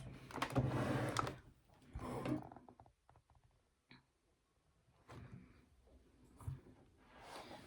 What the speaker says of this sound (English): Just give it a nice even top stitch.